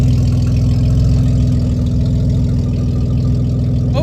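A Honda Accord engine with no exhaust runs right after a cold start, a loud raw rumbling idle with a rapid, steady pulsing beat held throughout at close range, with no talking.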